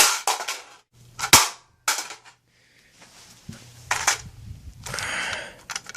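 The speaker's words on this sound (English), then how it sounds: "I'm gonna hit that base plate again, or I'm gonna try to." Impacts from a HEXMAG magazine's base plate being slammed onto concrete: several sharp, loud cracks at irregular intervals, close by, with rattling and handling noise between them.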